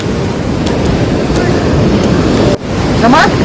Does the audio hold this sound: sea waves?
yes